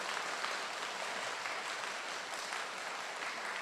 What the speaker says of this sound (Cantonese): 我俾掌聲歡迎佢哋嚇